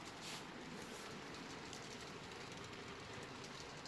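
An HO scale model CSX-led intermodal train rolls out of a yard, a faint continuous rumble of small wheels on track with soft rattling clicks, steady and unbroken.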